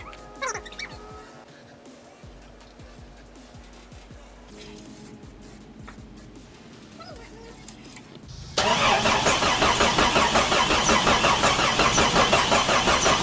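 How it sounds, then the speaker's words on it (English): A Jeep engine being cranked over without firing, the starter churning in a steady repeated rhythm that runs loud and close for several seconds at the end, after quieter workshop noises. "we're going to crank this thing over a little bit to generate some oil pressure"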